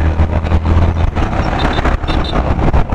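A Yamaha FZ-X motorcycle on a test ride gives a steady, loud engine drone with rushing wind and road noise throughout, heard from the rider's position.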